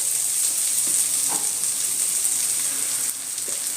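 Whole spices and torn ingredients frying together in oil in a pan, giving a steady, close, hissing sizzle with a brief stirring clink, heard alone without speech.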